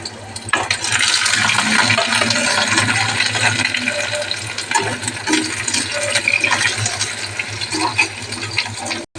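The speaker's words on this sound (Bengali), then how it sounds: "আমি পেঁয়াজটা ভেজে নিচ্ছি।" Chopped onions go into hot oil in a wok and fry with a loud, continuous, close-up sizzle and hiss that holds steady for several seconds before cutting off.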